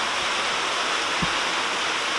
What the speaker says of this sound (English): That is water pouring in.